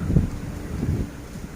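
Strong wind buffets the microphone outdoors in rural Thailand, with low rumbling gusts that swell and fade over the short span; no clear speech.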